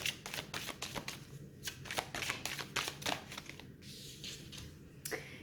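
Tarot cards being shuffled by hand, a dense run of quick riffling and slapping bursts that keep going without pause, close up and moderately loud, with no talking over them.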